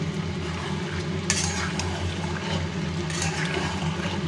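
Mutton being stirred and sautéed in oil in a home kitchen, a steady low sizzle under soft scraping, with a couple of brighter stirring strokes partway through; no talking.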